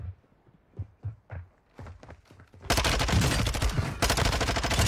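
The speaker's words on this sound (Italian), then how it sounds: "Un altro spara" Gunfire in the video game Warzone 2.0: after a few seconds of soft thuds and footsteps, a loud continuous burst of automatic fire starts and runs to the end.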